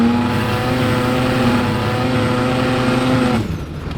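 A Mazda RX-3 race car with a small-displacement engine howls at high revs, a loud steady buzzing drone held for several seconds before cutting off abruptly.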